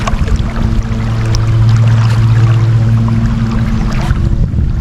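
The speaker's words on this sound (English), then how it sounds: "this is nice paddling now." A boat being paddled on Johnson Lake in Elwood, Nebraska, on a foggy, misty, gray summer day: a steady wash of water with a low, continuous drone underneath, fairly close and even throughout, with no talking.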